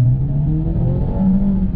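A Mercedes-AMG A35 four-cylinder engine pulls hard under acceleration, a close, loud, steady rising drone lasting under two seconds with no voices.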